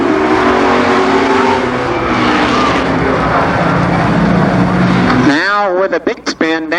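A stock race car engine roars loudly at speed as the car spins out of control down the front stretch at a local oval speedway during a 1990 Labor Day race, the engine note then dropping and wavering sharply as it loses momentum.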